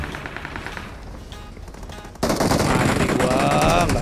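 PUBG Mobile gunfire: a quieter patter of shots at first, then a sudden loud burst of rapid automatic fire that continues to the end.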